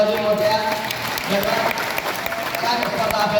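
A crowd applauds at the final of a traditional mud-pit wrestling tournament, Parner Kesari 2024, with sustained clapping and audible hand hits under ongoing voices and crowd murmur.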